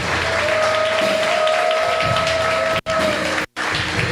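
Church congregation applauding during a Spanish-language sermon, a steady dense wash of clapping filling the space, broken by two brief dropouts near the end.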